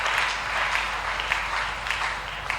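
A church audience applauding and cheering during a talk session, a steady dense wash of clapping that stays even and fairly loud throughout.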